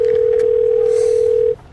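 A steady telephone dial tone from a cell phone, loud and continuous for about a second and a half before cutting off abruptly, with no talking.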